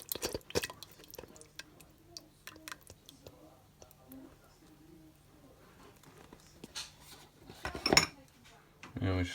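Spoon scraping and clinking around a Ninja Foodi pot while stirring a sausage casserole sauce of beef stock and passata, in quiet, scattered taps and scrapes, with a few louder knocks near the end.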